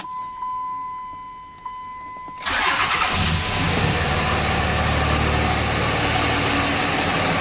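A 2004 Dodge Ram 2500 5.9L diesel engine cranks and catches after a quiet stretch, then settles into a steady, loud, rumbling idle that continues to the end.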